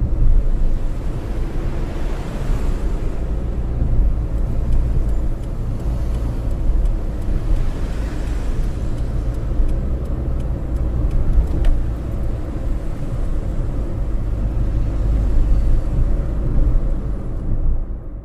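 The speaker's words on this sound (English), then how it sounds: "Heavy traffic." Heavy traffic heard in a TAG Systems TS4000 driver education simulator, a dense, continuous roar of engines and road noise with a washing, surf-like quality, loud and unbroken until a sudden stop.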